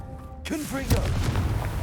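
A Confringo spell explosion from Hogwarts Legacy: a single sharp blast bursts out near the middle and trails into a rumbling decay, with a voice talking just before it.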